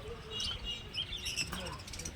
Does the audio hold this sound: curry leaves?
no